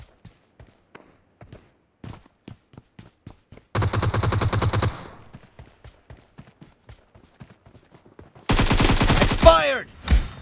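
Two long bursts of rapid automatic gunfire in the video game PUBG, loud and close, separated by scattered footstep-like clicks and taps, the second burst trailing into a sweeping whistle.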